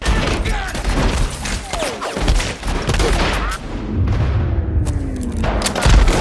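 Gunfire from the film Django Unchained inside a plantation main house: a dense fusillade of sharp shots and booming thuds, loud and close, with scattered bursts over several seconds.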